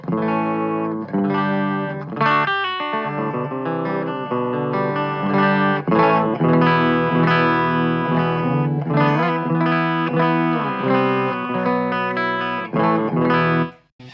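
Electric guitar on a clean channel through a Blackstar HT Studio 20 amp, played as a run of strummed chords and picked notes that ring steadily for about fourteen seconds before stopping, with no voice over it.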